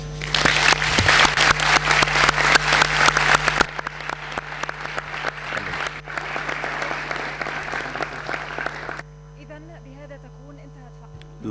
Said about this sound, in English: Applause is now in order.